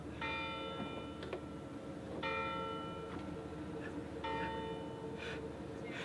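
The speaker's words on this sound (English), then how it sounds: "I think that bell is ringing to welcome us to Horta." A church bell in Horta rings out at noon, with three clear strikes spaced about two seconds apart, each leaving a long resonant hum over steady background noise.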